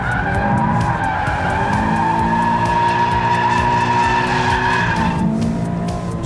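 A Toyota GT86 power-slides through a corner with loud, sustained tyre squeal over the engine's revving, the screech holding steady for several seconds before easing off near the end.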